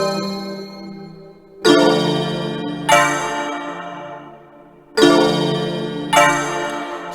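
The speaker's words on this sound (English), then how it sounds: "we're gonna go over here to bells and just let you hear some of it." Bell sounds from a free trap VST plugin: four bright, ringing bell strikes in two pairs, each decaying slowly over about a second, loud, close and clean with no talk.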